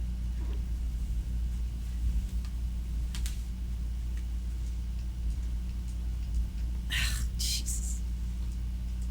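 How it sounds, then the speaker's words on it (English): A room air conditioner running indoors, producing a steady low hum that persists throughout, with a few faint ticks and clicks on top. "Can you hear it over the air conditioner?"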